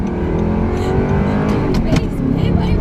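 A 2008 Audi R8 with a six-speed manual revs hard nearby, its engine note rising and falling loudly and continuously, with brief voices faintly in the mix.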